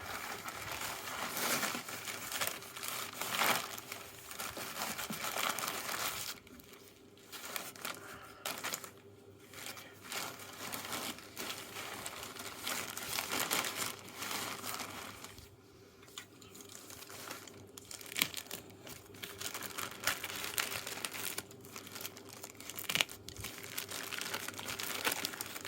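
Plastic bag crinkling and rustling as it is unwrapped while unboxing an MN111 kit, a steady, close crackle with brief pauses, alone without talk.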